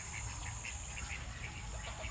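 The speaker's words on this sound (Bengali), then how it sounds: "এই যে দেখতে পাচ্ছেন, ওই যে আমার হাঁসগুলো" Several farm ducks quack repeatedly in the background over a constant low hum, with no talking.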